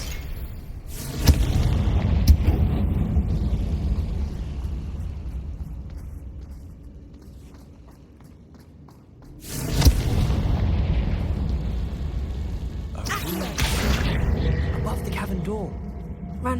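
Confringo fire spell explosions in Hogwarts Legacy, several heavy booming blasts in clusters with rumbling tails, loud and close, a quieter lull between them, and talk alongside.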